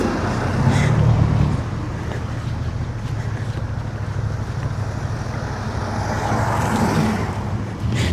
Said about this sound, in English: excuse the cars